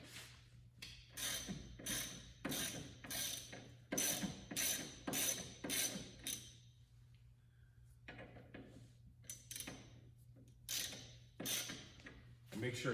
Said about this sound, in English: break the nut on the upper control arm loose using an 18mm